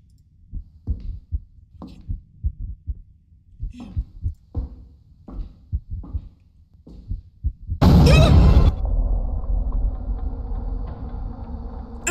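A slow, steady heartbeat thumps in pairs through a quiet stretch of the horror game Wrong Floor, then a loud mechanical roar bursts in and settles into a constant droning hum.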